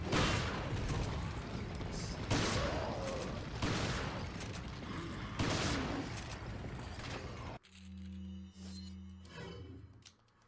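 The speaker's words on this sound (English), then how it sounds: "Shotgun." Shotgun in Resident Evil 4 firing repeatedly, about five loud booming blasts spaced roughly a second and a half apart, each with a short rumbling tail, followed by quieter game sounds.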